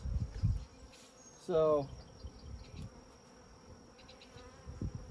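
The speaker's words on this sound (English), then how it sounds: "All those bees coming out are bees that will take care of these cells." Honey bees buzz around an open hive during queen cell rearing, a low insect hum in the background. A brief rising whine cuts through near the middle, and a single short spoken word is heard.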